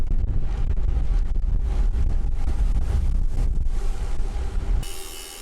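Strong wind buffets the microphone while gravel cycling, a loud continuous low rumble and roar that drops away abruptly near the end.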